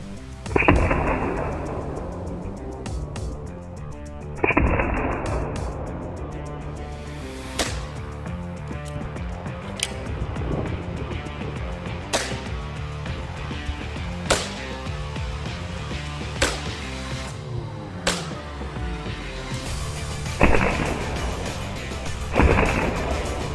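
A series of sharp, loud air rifle shots hitting a refrigerator rings out at irregular intervals, each with a brief metallic ring, with quieter clatter in between.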